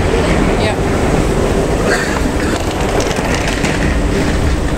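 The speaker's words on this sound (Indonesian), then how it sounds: "segera naik MRT ke Lavender Station" Singapore MRT train heading toward Lavender Station, riding along with a steady, loud, continuous rumble and rattling throughout, with faint voices mixed in.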